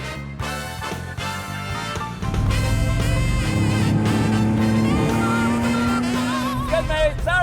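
A car engine running without a muffler rumbles loudly and close by, its raw exhaust note growing louder partway through and holding steady alongside a rising tone.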